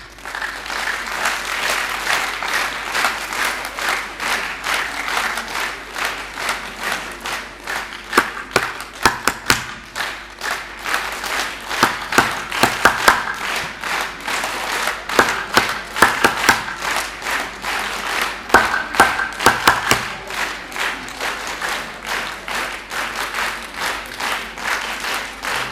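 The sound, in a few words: audience applause at Basant Panchami college event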